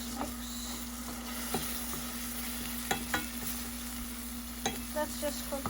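A masala mixture with crushed cumin and red chili is stirred in a pan, soft spoon scrapes and light taps over a quiet steady sizzle and a low hum, fairly faint and close.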